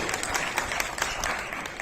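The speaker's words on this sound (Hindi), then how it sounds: "विक्रांत कश्यप जी के लिए तालियां बजाइए" An audience at a BJP party conference in Mukundpur, Burari, claps for Vikrant Kashyap, producing a short, full burst of crowd applause with crisp, overlapping hand claps throughout.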